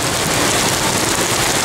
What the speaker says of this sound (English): having a bit of an afternoon thunderstorm,